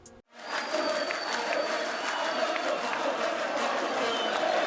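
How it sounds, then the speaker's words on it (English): Hands clapping in steady crowd applause, used as a layered sound effect for a sports match, starting after a brief near-silent gap and then continuing dense and even throughout. "the first thing you hear is clapping of hands"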